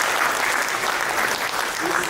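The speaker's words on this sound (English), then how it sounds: "a huge round of applause for Kushal" Audience applause at a business event, a dense, loud and steady wash of many hands clapping throughout.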